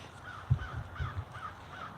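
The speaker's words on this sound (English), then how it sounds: "That's a crow." A crow caws several times in an even rhythm, moderately near and alone outdoors, with quiet background ambience.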